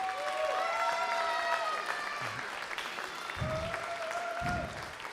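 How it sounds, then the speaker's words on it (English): Crowd applause fills the hall at a Kingdom Wrestling church event, dense and steady, with cheering voices and whistles riding over the clapping and a few low thuds near the end. "that deserves an applause"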